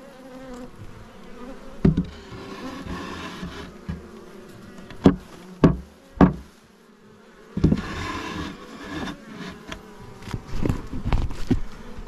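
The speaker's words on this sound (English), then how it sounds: "Okay, so this hive has got an injection of bees." Honey bees buzz steadily around a top bar hive during a transplant outdoors, a soft continuous drone broken by several sharp knocks and thumps from handling the hive.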